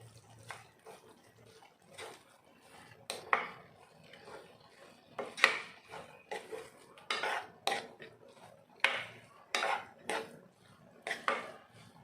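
A metal spoon scrapes and clinks against a pan while ground coconut is stirred into an amaranth greens stir-fry, a series of irregular quiet clatters and scrapes over a faint background hiss.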